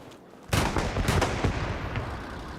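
A heavy artillery cannon fires in the World War II shooter Hell Let Loose, one loud booming blast followed by a rolling rumble and a few more distant thuds fading out.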